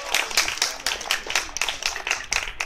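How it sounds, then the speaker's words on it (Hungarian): Applause from an audience for a group of performers, scattered claps forming a steady moderate patter throughout, with no voices over it. "Nagyobb tapsot kérek szépen a fiúknak és az egyetlen hölgynek!"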